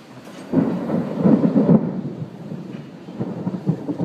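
Deep thunder rumbling from a thunderstorm, with a loud roll building in the first half and then lingering under steady rain noise.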